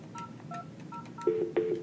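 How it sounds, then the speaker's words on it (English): Several short two-tone keypad beeps from an Avaya 9650 desk phone, followed by a steady dial tone that comes in twice near the end, clear and quiet with no talking. "You'll get dial tone"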